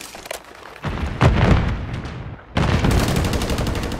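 Gunfire in a Search and Destroy match of a video game: loud bursts of rapid shots, a short lull, then a sustained stretch of continuous firing.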